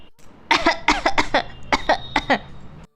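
A fit of repeated harsh coughs close to the mic, about ten bursts in quick irregular succession, with no talking.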